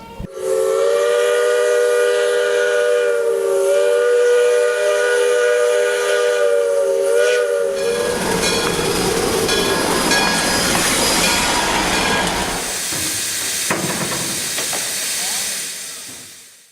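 A steam locomotive sounds a long, steady whistle, then gives way to loud hissing steam and heavy rumbling as it runs close by.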